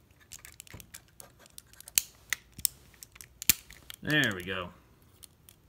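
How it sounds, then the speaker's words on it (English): Plastic parts of a Robot Spirits MSM-03C Hy-Gogg action figure being snapped back together, a string of sharp little clicks and creaks, then a louder squeaky grinding near the end, with a voice speaking briefly. "Lots of plasticky noises being made that don't sound too good"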